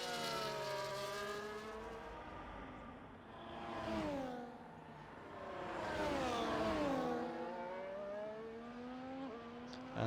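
A race car engine in a racing video game at the Sakhir circuit in Bahrain revs up and down in smooth rising and falling sweeps as the car brakes and accelerates to warm its tyres, steady and fairly close, with no talk.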